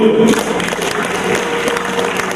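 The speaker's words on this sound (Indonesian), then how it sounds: "Tepuk tangan buat Ibu." An audience applauds a woman at an Islamic motivational talk on prosperity and property, steady clapping filling the whole moment at close range, with a brief tonal sound at the start.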